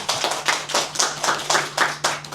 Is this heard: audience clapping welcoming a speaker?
yes